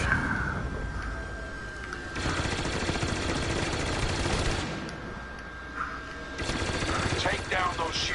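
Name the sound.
starfighter gunfire from video game Star Wars Battlefront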